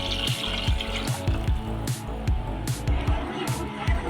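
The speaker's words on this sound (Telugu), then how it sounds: "నీళ్ళని ఇందులో వేసుకుందాము." Cooked chicken stock poured into a pan for chicken fry, a running liquid splash with rhythmic low glugging pulses, close and fairly loud, with no clear talking.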